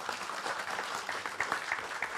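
Audience applause at an EverQuest II fan panel, a dense steady wash of clapping from a crowd that continues evenly for a couple of seconds with no clear speech.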